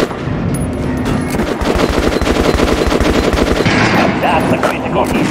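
Rapid automatic gunfire from a first-person shooter, Metro Last Light Redux on PC, sounds as dense, loud bursts of machine-gun fire over several seconds with brief impacts mixed in.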